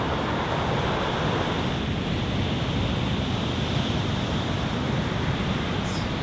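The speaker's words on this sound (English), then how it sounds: "the surf is actually getting pretty solid out there" Ocean surf breaking at Main Beach on an island with onshore wind, a loud, dense, unbroken roar of waves mixed with wind buffeting the microphone.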